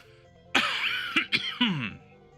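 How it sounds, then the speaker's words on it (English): A few harsh coughs in quick succession, close and fairly loud, after a moment of quiet. "I'm coughing a lot today."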